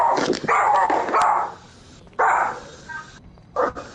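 A dog indoors lets out several loud, close barks in short bursts, with a couple of sharp yips between them and a final bark after a pause.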